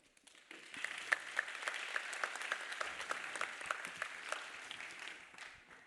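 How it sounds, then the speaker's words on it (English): A conference audience at a carbon-reduction session applauds a steel industry guest joining the panel, many hands clapping steadily at moderate distance, rising in quickly and holding an even, slightly sparse patter throughout. "Big applause for Peter as well"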